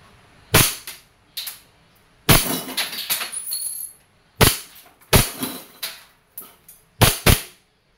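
Umarex Colt 1911 M45 CQBP, a CO2-powered steel BB airgun pistol, fires about eight sharp, close, loud cracks at irregular intervals, some trailing a brief metallic clink.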